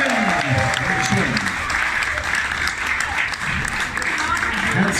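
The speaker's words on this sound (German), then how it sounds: "Ich glaube, die haben auch mal einen richtigen Applaus verdient." Dense, continuous audience applause at an outdoor New Year's Eve singing performance on Sylt, loud and close throughout the short stretch with no gaps.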